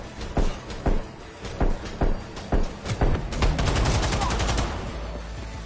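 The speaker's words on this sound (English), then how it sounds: "swap back over to the light machine gun of sorts" A light machine gun fires in Cyberpunk 2077, first as spaced short bursts of sharp loud shots, then a sustained rapid stream of gunfire with rumbling impacts that fade slightly.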